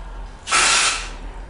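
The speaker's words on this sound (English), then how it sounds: "You just take the can, lightly spray it about 6 to 8 inches from the roots." A can of Klorane dry shampoo is sprayed toward the hair roots in a single close, airy hiss lasting about half a second, with quiet before and after.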